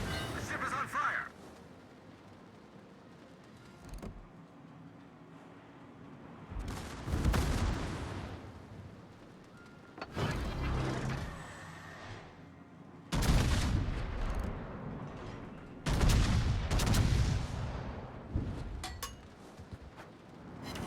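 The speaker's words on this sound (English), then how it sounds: "The ship is on fire." A warship in World of Warships, burning under fire: repeated heavy booming salvos and crackling blasts come in loud bursts separated by quieter rumbling stretches.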